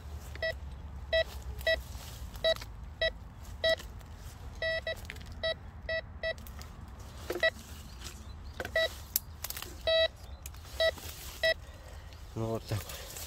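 A handheld MD4030S metal detector sounds a series of short, evenly spaced electronic beeps, some in quick pairs, heard fairly close over outdoor background noise.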